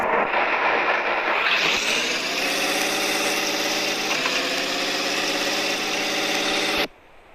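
A steady car engine in a video game drones and revs up into a sustained mechanical hum, then cuts off abruptly near the end.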